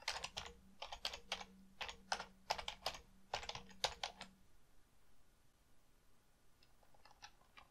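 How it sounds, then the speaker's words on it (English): Fast bursts of close keystrokes clatter on a computer keyboard in quick runs with short pauses, then trail off into a few lighter, scattered taps. "Type in my next string."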